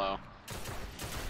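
Rapid gunfire bursts sound in a shooter video game. The shots are brief and crackling and fill most of the short moment after a quick pause.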